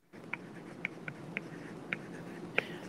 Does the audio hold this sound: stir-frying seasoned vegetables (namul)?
no